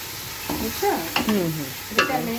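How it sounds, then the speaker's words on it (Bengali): Garlic sizzles in oil in a pan with a few brief scraping stirs, close and steady, no voices. "রসুনটাকে একটু ভেজে নিতে হবে"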